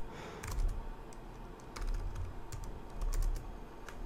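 Code being typed on a computer keyboard, soft irregular clicks in uneven bursts over a low room hum, close and fairly quiet, with no talking.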